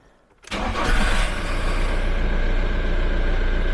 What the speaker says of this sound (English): let's fire it up and see what happens